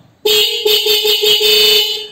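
A loud dual-tone motorcycle horn on a Bajaj Pulsar 125, with two horns newly wired together, blares after a brief silence, sounding steadily with a slight stutter partway through, close and harsh.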